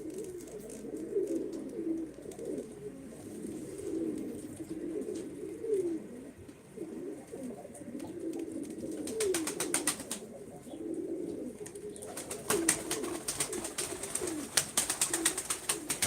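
Pigeons cooing in a loft of Turkish flying birds: soft, repeated low coos close by, with bursts of wing flapping and clattering near the end.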